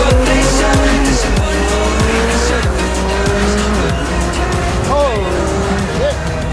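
A 2020 McLaren 720S Spider accelerates hard, its engine note rising through repeated gear shifts with a loud, close, strained drone. Tire noise runs alongside it, and a voice talks over it.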